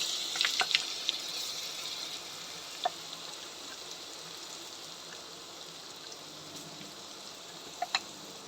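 Curry leaves crackle in hot oil during tempering for Satara-style Katachi Aamti, a soft steady sizzle with sharp pops clustered at the start and a few more scattered later, quiet and close.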